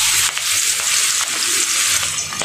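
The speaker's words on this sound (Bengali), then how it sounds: "আমি মাছ ভাজার তেলে দিয়ে দিব পরিমাণ মতো পেঁয়াজ" Sliced onions sizzle loudly in leftover oil from frying catfish, a steady bright hiss with a few scraping stirs, close and continuous.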